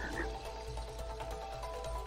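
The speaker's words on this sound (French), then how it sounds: "La grenouille." A frog croaking in the video game It Takes Two: low, rhythmic croaks pulse steadily under a dense game soundscape, with no talking.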